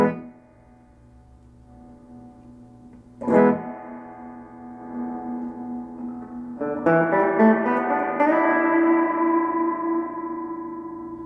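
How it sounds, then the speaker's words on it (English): Electric guitar played through a Studio 15R amp with reverb added, single notes and then fuller strummed chords ringing out with a lingering echo tail, clear and alone. "The reverb control allows you to add an echo effect to the guitar."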